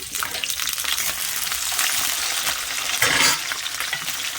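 Panch phoron, green chili and chopped onion frying in hot oil in a wok: a loud, dense, continuous sizzle close up, with a brief stir-like surge near the end and no talking.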